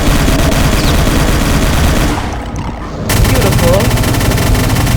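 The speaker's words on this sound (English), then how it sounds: "This is the machine gun." Rapid machine gun fire from the video game Doom 64 rattles loud and continuous, briefly dipping for about a second before the dense fusillade resumes at full volume.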